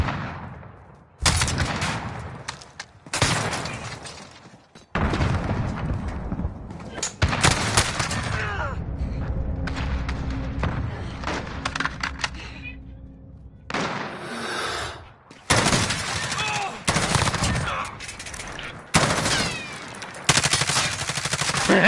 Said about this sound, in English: He's shooting me too.